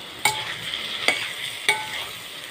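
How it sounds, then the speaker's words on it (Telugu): Capsicum, beans and drumstick curry sizzles quietly in a pan as a spatula stirs it in three distinct scraping strokes about half a second apart; no one speaks. "ఈ ముక్కల్ని వేసుకుని ఇంకా 2 నిమిషాలు కూరని కలుపుతా మూత లేకుండా"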